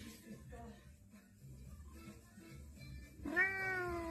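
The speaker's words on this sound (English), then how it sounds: "Loud cat." Soft background murmur, then a cat lets out a single loud, drawn-out meow close by near the end.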